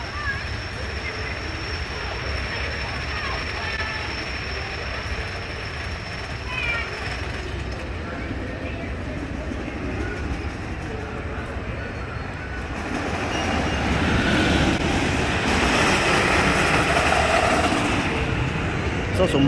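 Roller coaster at Fun Spot America Kissimmee running along its track, a continuous loud rumbling roar with rattling wheels and rushing wind that swells louder toward the end, with people talking over it.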